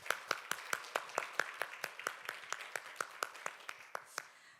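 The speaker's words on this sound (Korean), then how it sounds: "박수 한번 주실까요?" Audience at a fashion-hub knowledge concert in Seoul applauding after a lecture: a steady run of about twenty crisp, evenly spaced handclaps, fairly faint and sounding like a small group, with no talk over them.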